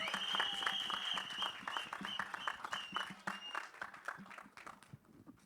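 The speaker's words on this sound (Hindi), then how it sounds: "जोरदार तालियां" Audience applause at a Bollywood film trailer launch event, a steady crowd clapping with a few sharper individual claps, moderately distant and fairly faint, easing off toward the end.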